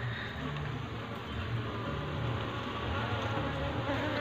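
Dense bee buzzing at a hive with a good brood of larvae, a continuous close drone of many insects with no talk over it.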